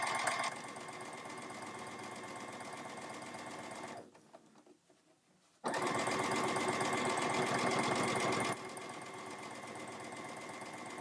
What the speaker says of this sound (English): And I'm just going to start stitching.